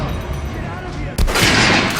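A gunshot at a training dummy in Metro: Last Light, one sharp loud crack after a second of quieter sound with a voice, followed by a ringing, echoing tail.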